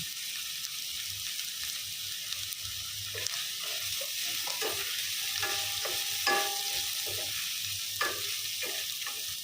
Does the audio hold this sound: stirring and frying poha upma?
yes